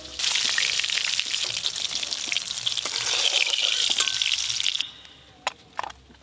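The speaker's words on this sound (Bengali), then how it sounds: "আরে মাছগুলো একটু কড়া করেই ভাজবি, ভেজে ঝাল করবি।" Rohu fish fry hard in hot oil, a loud, dense, continuous sizzle that crackles steadily for several seconds, then suddenly drops to quieter scattered pops and drips.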